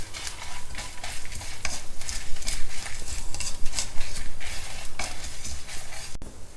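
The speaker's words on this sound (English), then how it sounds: "Fry it over a low flame because you don't want your spices to get burnt" Spices and curry leaves frying over a low flame for a bittergourd side dish, a steady crackling sizzle with occasional stirring scrapes in the pan, close and continuous.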